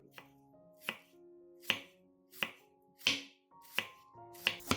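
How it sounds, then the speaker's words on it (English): A knife finely slicing an onion on a board, seven distinct crisp chops spaced about once per second, close and clear with a background tone underneath. "finely slice the onion into small pieces as shown in the video"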